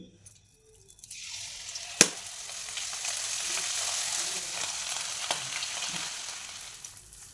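Sev dough drops into hot peanut oil and starts to fry: near silence gives way to a sudden, steady bubbling sizzle, punctuated by a couple of sharp clicks, close and moderately loud.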